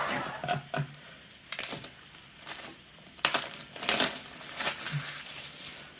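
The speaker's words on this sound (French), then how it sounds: "On va d'abord déballer l'Apple Pencil." Apple Pencil (second generation) being unboxed, with cardboard and plastic packaging crinkled, tapped and slid apart in irregular close bursts, fairly quiet overall.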